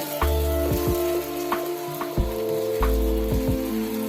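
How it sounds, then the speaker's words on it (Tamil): Dosa batter sizzles on a large, hot stone dosa griddle. The frying is loud and close, with a steady crackle and repeated scraping strokes as the batter is spread. "கொஞ்சம் பெரிய தோசை கல், அதனால 2 கல் மாவு ஊற்றிக்கிறோம்"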